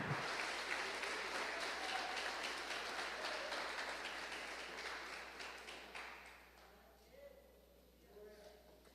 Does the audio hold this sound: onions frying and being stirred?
no